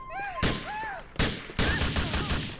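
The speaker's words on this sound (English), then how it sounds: "Oh, that's an M4, not a sniper." Bursts of M4 rifle fire in GTA 4, three loud, sharp volleys of rapid shots close by, separated by brief pauses, with faint voice-like tones in between.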